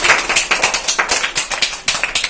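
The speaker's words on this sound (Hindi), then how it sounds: "तो चलो शांति के लिए सभी ताली बजाएंगे" A group of children clap together for a classmate who won a classroom game, a brisk, uneven burst of many hands close by, with no talking.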